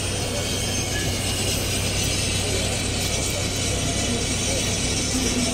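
A loud, continuous mechanical roar with a rattling, clattering texture from a hazelnut harvesting vacuum machine sucking nuts up from the ground through a long hose, steady throughout.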